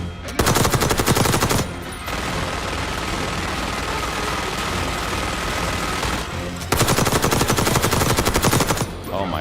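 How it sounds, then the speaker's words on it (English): Rapid, sustained bursts of minigun fire in Call of Duty: Black Ops 6, loud and close, with long continuous volleys at the start and end and a steadier roaring stretch between them. "Stay low until that minigun stops spinning."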